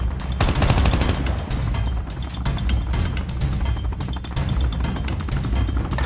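Gunfire in Call of Duty Mobile around a golden Arctic .50 sniper rifle: a loud, dense burst of shots opens the scene, then a steady clatter of rapid fire and explosions continues throughout with no talking.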